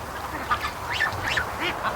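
Geese honk repeatedly nearby, several overlapping calls in an irregular rhythm over soft outdoor background.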